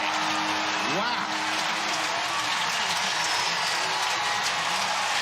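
Stadium crowd at a Rockies vs. Giants baseball game roars steadily after a first-pitch home run to dead center, a loud sustained cheer with an announcer talking over it.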